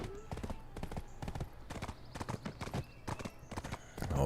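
Steady clip-clop of horse hooves in a video game, an even trotting rhythm of sharp knocks running throughout, with a voice talking over it.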